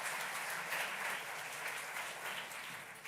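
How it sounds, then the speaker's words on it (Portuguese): A congregation applauds Matilde during a Sunday Mass in church, with steady, distant clapping that stays even and fairly faint for the whole stretch. "damos uma grande salva de palmas também"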